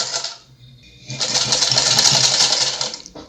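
A Vigorelli sewing machine stitching in reverse makes a brief whir, pauses for a moment, then runs again in a steady, close mechanical buzz lasting about two seconds.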